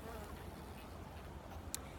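Bees buzz around a honeycomb being harvested, a faint, steady droning hum with a soft click near the end.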